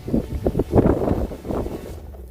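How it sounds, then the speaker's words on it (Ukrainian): Wind buffets the microphone in low, muffled rumbling gusts that swell and fade for a couple of seconds, out on open fields in Ukraine. "Напевно, вам вітер задуває"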